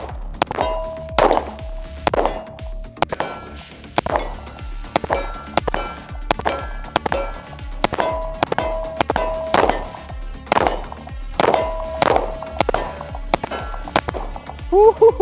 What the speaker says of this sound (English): First shots with the factory ported Fowler.